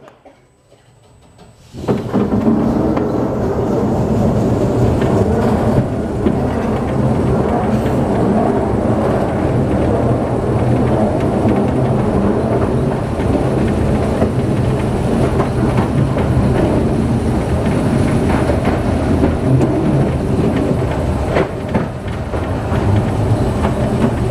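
The London Post Office Railway, an underground mail train, starts up after a quiet moment and then runs on steadily, with a loud rumble and a rattle of wheels on the track inside the tunnel.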